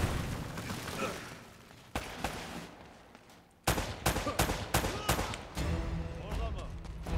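Repeated gunshots and bursts of automatic fire from the video game Uncharted: Drake's Fortune Remastered, loud and sharp with a dense fusillade in the second half, with a voice talking over parts of it.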